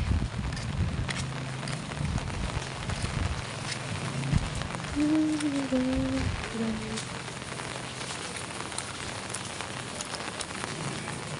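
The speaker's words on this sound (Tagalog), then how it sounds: "Kita niyo po, walang tigil pong ulan." Steady rain pours on a stormy day near a parking spot for an e-bike, a dense continuous hiss close by, with a brief faint tonal sound in the middle and no talking.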